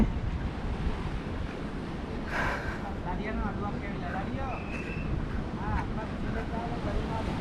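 Sea waves wash and surge around a boat at sea during a boat ride, mixed with gusty wind buffeting the microphone, while voices are faintly heard in the background.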